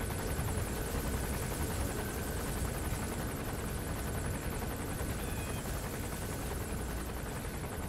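Helicopter in the video game Metal Gear Solid V: a steady, dense rotor and engine drone fills the scene continuously at even loudness, with no pauses and no talk.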